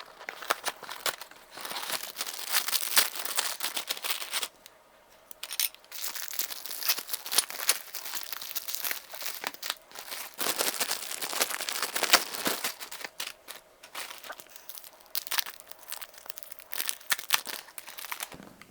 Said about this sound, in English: we're gonna start by opening up all of our ingredients